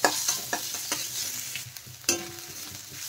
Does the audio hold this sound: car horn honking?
no